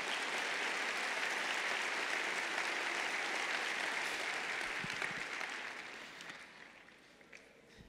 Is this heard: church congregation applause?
yes